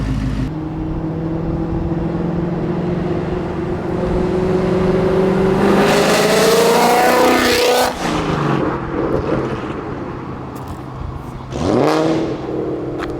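A Ford Mustang Mach 1 V8 with Kooks longtube headers idles with a rumbling exhaust, then revs up loudly with a rising whine, drops back, and blips again near the end.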